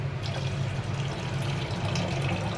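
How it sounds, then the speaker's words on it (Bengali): Fallen sugar is rinsed under running tap water in a home kitchen, a steady, unbroken flow splashing close by with no voices. "চিনি যখন পড়ে যায় তুলে রেখে দিই আলাদা, আর সেটা এইভাবে ধুয়ে কাজে লাগে"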